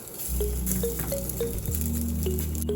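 Steady sizzling of a lachha paratha frying on a hot tawa, continuous and close, with a low hum underneath and occasional soft crackles.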